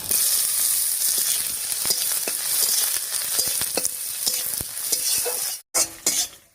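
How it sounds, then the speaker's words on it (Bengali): Chopped onion with cinnamon, cardamom, cloves and peppercorns fries in hot oil, a loud continuous sizzle with frequent stirring clinks that cuts out abruptly near the end, with no talking. "এবারে দিয়ে দিচ্ছি পেঁয়াজ কুচি।"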